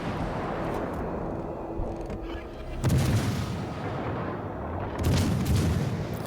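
Cruiser turret guns firing in World of Warships Legends, heavy booming salvos with a loud burst near the start and another later over a rumbling battle background.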